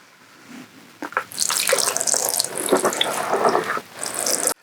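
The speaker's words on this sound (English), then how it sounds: "I like to put water all around because it makes better." Water pours in a steady, close splashing stream into an indoor garden soil mix, starting after a quiet moment and running for several seconds before cutting off.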